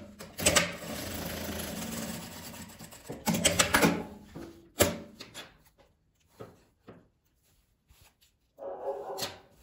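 A sewing machine stitches a seam across folded fabric in short, irregular bursts separated by pauses. It sounds close and moderately loud, with a final run near the end.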